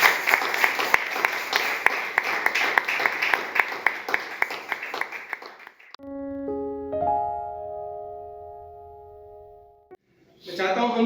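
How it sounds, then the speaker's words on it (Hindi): A congregation at a Sunday church service claps loudly together for about six seconds, a dense, rhythmic wash of hands that slowly fades. Then a few sustained keyboard notes ring out alone. "आइए उस राजा के लिए एक जोरदार तालियों का अर्पण हम बजाएंगे"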